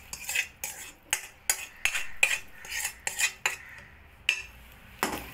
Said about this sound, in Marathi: ढवळून मिक्स करणार आहोत.